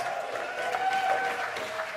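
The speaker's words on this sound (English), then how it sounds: "My round of applause." A comedy-show audience applauding, with steady clapping from a crowd sustained throughout at moderate distance and faint voices mixed in.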